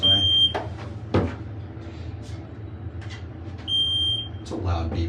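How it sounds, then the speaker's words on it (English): Loud electronic beeper inside an office building near its elevators. Two sustained high beeps sound, separated by a few seconds of quieter room noise with thumps and faint talking. "It's a loud beeper."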